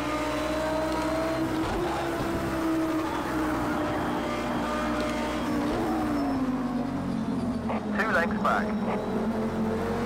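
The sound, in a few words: Super Trofeo race car engine in video game Project CARS 2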